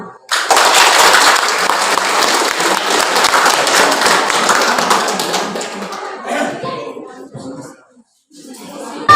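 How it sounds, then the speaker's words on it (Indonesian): Applause from a fashion show audience for class 10 IPS 2, held ahead of Indonesia's 77th Independence Day. Loud, dense clapping starts at once, holds steady and then thins out, with a brief near-silent gap before a final burst. "Mari kita berikan tepukan tangan yang meriah untuk kelas kami IPS 2."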